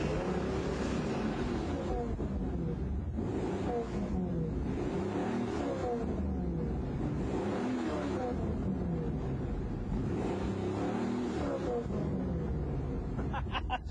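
A truck engine fitted with exhaust flame throwers is revved repeatedly, the engine note rising and falling in pulses with faint popping near the end, heard at a low level.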